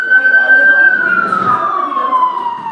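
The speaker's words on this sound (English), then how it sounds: "There have been so many sirens today, it's unreal." An emergency vehicle siren wails steadily outside a classroom, its tone slowly falling as it passes, heard through an open window over low room noise.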